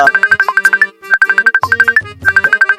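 A mobile phone ringtone for an incoming call plays loud and close, a repeating electronic melody in short bursts with brief pauses between phrases.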